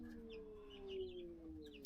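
Faint, distant chicken sounds drift through a quiet outdoor space: soft clucks and low cooing, with a few small chirps.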